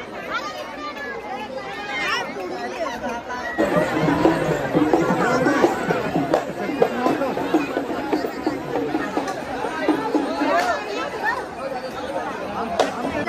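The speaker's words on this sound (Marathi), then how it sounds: "गर्दी आहे, लय गर्दी आहे." A crowded queue at a temple in Chandanpuri, Malegaon, fills the air with steady overlapping chatter and babble of many voices, close and loud, swelling after a few seconds and staying busy to the end.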